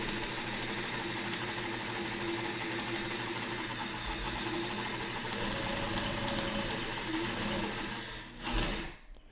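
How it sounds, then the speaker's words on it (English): A sewing machine stitches in one steady, close, whirring run while its thread tension is being tested, then stops abruptly near the end. "trying to sew in a straight line"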